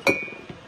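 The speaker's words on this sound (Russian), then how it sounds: "И сейчас также сюда положу чашечки." Small cups clink sharply as they are set into a kitchen sink, one bright knock at the start and another just under a second later, with soft rattling in between.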